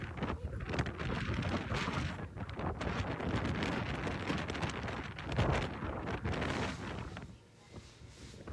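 Strong wind blows steadily and roughly across the microphone outdoors, a continuous buffeting roar that briefly eases near the end.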